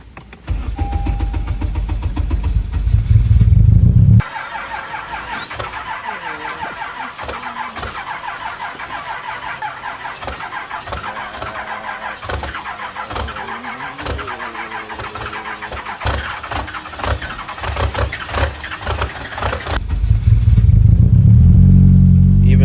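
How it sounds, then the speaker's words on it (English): A modified Honda Civic with a built engine cranks and struggles to start, misfiring unevenly with sputtering, irregular bursts between louder low rumbling stretches at the beginning and end. "Be misfiring like that just because the ignition doesn't know when to throw spark."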